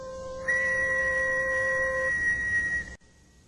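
A single sustained, shrill whistle blast holds steady for a couple of seconds, then cuts off abruptly, leaving quiet.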